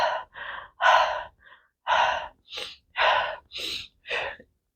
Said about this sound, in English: You breathe in and out and in and out. Again, that repetitive breathing without a pause between the breath.